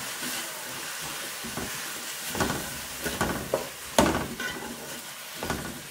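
Sliced onions frying with a pinch of salt in a pan for Kerala-style mutton roast, a steady close sizzle with scraping stir strokes and small clatters breaking through, no talking.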